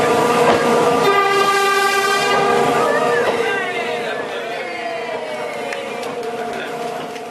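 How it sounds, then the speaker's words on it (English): Steam train hooter sounded by the driver's assistant, a loud sustained multi-tone blast over rolling wheel clatter, fading as the train moves on, with speech in the background. "Back on the train we have a driver's assistant to sound the hooter."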